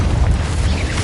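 A Confringo spell explosion from the Hogwarts Legacy video game gives a single short, heavy boom with a rumbling low-end burst that fills the whole moment.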